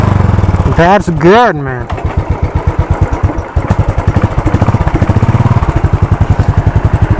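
A 2016 Royal Enfield Classic 500 Desert Storm single-cylinder motorcycle cranks over, fires up and settles into a steady, close, loud thumping idle with a brief rev, while someone speaks briefly over it.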